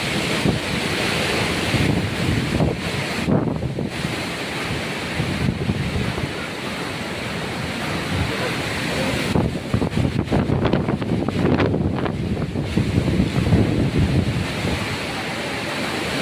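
Heavy typhoon wind gusts and buffets the microphone in roaring surges, with a constant wash of rain and churning waves underneath.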